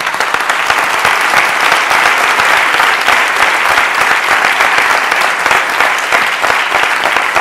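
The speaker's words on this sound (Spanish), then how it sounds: "yo creo que hasta un fuerte aplauso." Loud, sustained applause from a large audience at a 2017 welcome ceremony, a steady dense wash of clapping that holds for the whole stretch without pause.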